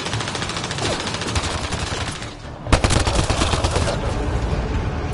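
Rapid automatic gunfire from the video game Mass Effect, a dense, continuous rattle of shots that dips briefly, then resumes loud with a sharp burst.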